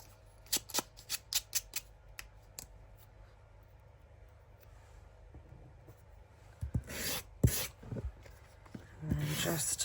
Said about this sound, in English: And then just run your sander down.